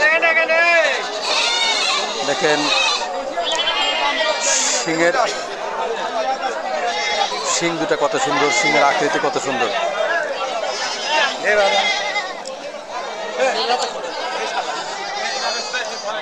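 Goats bleat at a crowded goat market among many tethered large female goats, with cries rising over constant crowd chatter and someone talking close by.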